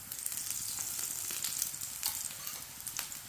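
Masala paratha sizzles and fries in oil on a pan, a steady close crackle with brief louder pops and no talking.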